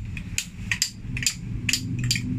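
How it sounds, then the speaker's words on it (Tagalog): A hammer strikes a screwdriver to knock loose a broken umbrella stem, about seven sharp metallic taps in a quick irregular rhythm, close and fairly loud. "Pinalo na screwdriver."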